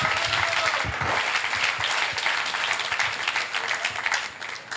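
An evangelical church congregation claps for the Lord, a loud dense burst of many hands that holds strong and then tapers slightly toward the end.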